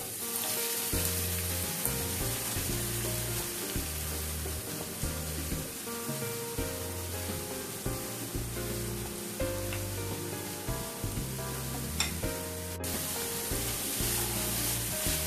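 Chopped onions fry in hot oil in a kadai for a chicken curry, a steady hiss of sizzling with occasional stirring scrapes, partly covered by loud continuous music.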